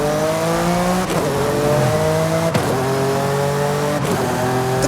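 A car with a PDK gearbox in Forza Horizon 5 revs loudly and upshifts three times, its engine pitch climbing steadily then dropping at each shift with a brief hesitation, close and continuous, without any voices.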